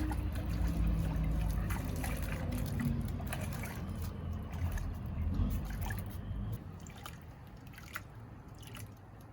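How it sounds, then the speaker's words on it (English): Gold panning in water while scraping clay at Twin River Camp gives a close, continuous swish and trickle of water and gravel sloshing in the pan, easing off toward the end. "I'm not panning all the way down, I'm just panning it a little ways and then add more."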